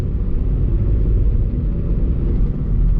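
A 2020 Skoda Rapid with a 1-liter three-cylinder engine accelerating, a loud, steady low rumble heard from inside the cabin with no talking over it.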